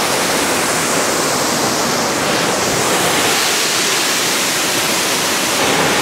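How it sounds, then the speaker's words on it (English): A loud waterfall in Scotland roars in a dense, constant rush of falling water, close and unbroken throughout, with no voices. "I'm gonna have to shout quite loud because the waterfall's pretty loud."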